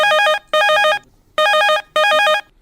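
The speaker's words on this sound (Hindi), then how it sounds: "बाज गई ये फोन की घंटी" A telephone rings in a radio phone-in studio with two pairs of bright electronic trills separated by short gaps, loud and close with no voices over it.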